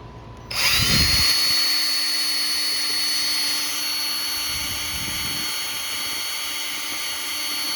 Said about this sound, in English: I'm going to do the drill and show you how the brush works